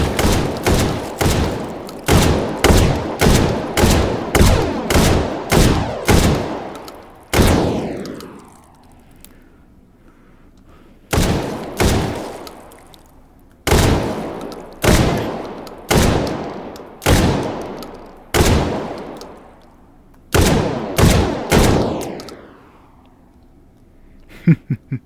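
Two Saiga shotguns dual-wielded with drum magazines in the VR game Hot Dogs, Horseshoes and Hand Grenades, firing loud rapid blasts in bursts of about eight, each volley followed by a brief pause before the next.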